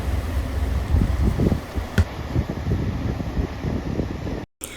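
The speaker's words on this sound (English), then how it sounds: "It's a very windy day" Wind gusts buffet the microphone on a blustery day in Manistee, Michigan, a continuous low rumble with a brief sharp knock near the middle and a sudden cut-out near the end.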